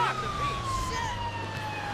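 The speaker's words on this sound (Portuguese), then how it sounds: "Vou ligar a sirene aqui." A police car siren wails steadily in the GTA V video game, a continuous sweeping tone close and loud over a low engine rumble, with no voices.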